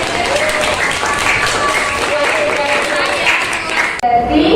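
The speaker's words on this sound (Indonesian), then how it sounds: "Beri tepuk tangan buat." Students in a classroom clap after a group history presentation, brisk uneven clapping close by that runs most of the way before cutting off, with voices mixed in near the end.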